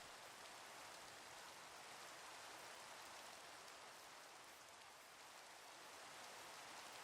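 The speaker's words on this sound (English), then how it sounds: "it's night and raining" Steady rain falls at night in the Minecraft video game, a continuous, even hiss of drops that stays faint throughout with no voices.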